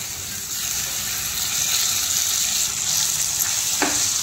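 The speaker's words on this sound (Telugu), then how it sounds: "మామిడి తురుగు వేసుకుంటున్నాను." Grated mango goes into a hot tempering of asafoetida, curry leaves and peanuts in a pan, producing a steady bright sizzle with a brief clatter near the end, no talking.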